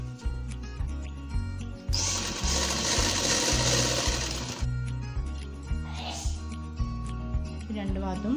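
A sewing machine stitching a kurti, its needle thumping in a quick mechanical rhythm that stops and starts, with a longer steady whirring run in the middle of the stretch.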